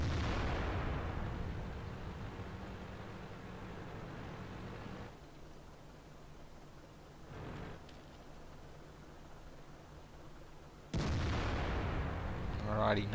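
Tank guns fire in a World of Tanks match: heavy booming shots open and close the stretch, with a muffled thud in the middle, over a steady rumbling game background.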